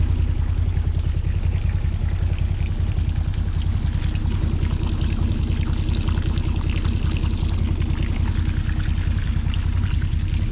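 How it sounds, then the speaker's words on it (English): Irrigation water pours steadily from a pipe into field rows from a pivot system, a loud, continuous gushing rush with a low rumble running unbroken throughout, close by and without talk. "make sure that the water goes into the correct rows and then"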